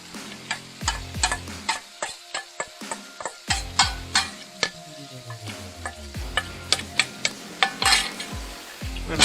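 Sauce hits a hot pan of fried-down mushrooms and chicken, sizzling while a utensil stirs and clacks against the pan in steady, repeated knocks, loud and close.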